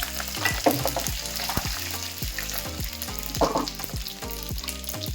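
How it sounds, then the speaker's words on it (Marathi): Cumin and garlic sizzle in hot oil in a steady, close crackling hiss, joined by repeated low knocks and scrapes from a spoon stirring the pan, with no voices. "तर तेल गरम झालेलं आहे, त्यामध्ये आपण जिरं टाकूयात। त्यानंतर लसूण टाकूयात।"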